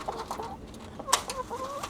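Backyard chickens kept at home cluck in short, soft bursts close by, with one sharper squawk midway and a rising, drawn-out cluck near the end over quiet surroundings.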